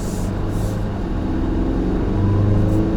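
A 2016 Mazda CX-9 Grand Touring pulls onto a highway, a steady, moderately loud engine drone from inside the cabin with a slight rising pitch as it builds speed, no talking.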